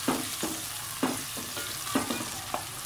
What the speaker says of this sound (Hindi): अभी मैं ये डाल रही हूँ प्याज इसमें।